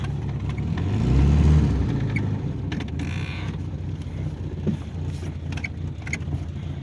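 A ZAZ Tavria car engine idles steadily with a low, even rumble, rising briefly at the start before settling into a quiet, smooth hum with no knocking.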